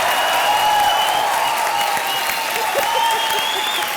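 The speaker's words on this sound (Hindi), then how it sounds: "तालियां" Studio audience applause on a televised dance reality show, a steady, loud wash of clapping with sustained musical tones running beneath it throughout.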